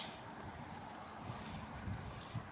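Wind rushes steadily past, with low buffeting gusts on the microphone and faint rumbling underneath.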